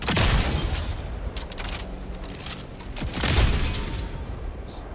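Gunfire in the video game Jump Ship, rapid heavy bursts and booms in two loud clusters with mechanical clatter between them.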